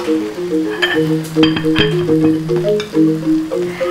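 Lemongrass and kaffir lime leaf frying in a pan for prawn sambal, giving a steady close sizzle with light stirring crackles over a melodic background tune.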